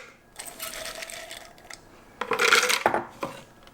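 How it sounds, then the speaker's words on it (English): A Blendtec blender with a small twist jar pulses cashew nuts in two short, harsh whirring bursts separated by a brief pause. "to grind the cashew nuts, I'm going to use my Blendtec blender with my small twist jar"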